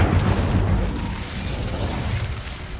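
A fiery Incendio spell erupts in the wizarding game Hogwarts Legacy, a loud, dense whooshing boom with deep rumble that slowly settles into a sustained roar.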